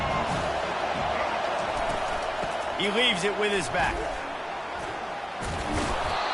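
A stadium crowd roars and cheers steadily at a college football game in EA College Football, a dense wash of noise under an announcer's voice, with a brief horn-like call rising midway.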